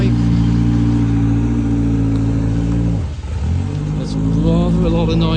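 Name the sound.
rally car engine revving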